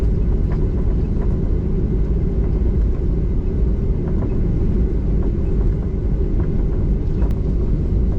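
An Air India Express plane at Calicut Airport is heard from inside the cabin during takeoff as a loud, constant, low engine rumble and roar with no break.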